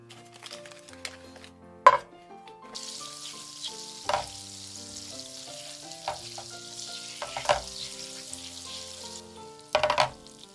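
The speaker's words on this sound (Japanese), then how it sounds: "じゃあまずフライパンにバター入れますよ" Butter melting in a frying pan for a white sauce, giving a steady soft sizzle throughout with a few clanks of utensils against the pan and music playing underneath.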